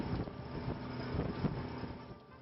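A motorboat runs out from Florianópolis toward Arvoredo, with a steady engine drone mixed with rushing wind and water splashing over the hull.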